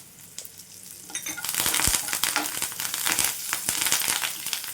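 Garlic cloves and spices frying in hot oil for a tamarind chutney, a dense close-up crackling sizzle that swells after a quiet start and keeps popping with occasional stirring scrapes.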